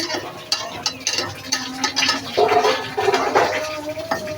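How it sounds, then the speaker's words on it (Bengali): Giant river prawns and local crabs cooking in a pan give a moderate bubbling sizzle, with stirring scrapes and clinks coming in uneven bursts. "দেখেন আমি গলদা চিংড়ি দিয়ে দেশি কাঁকড়ালা দিয়ে রান্না করতেছি।"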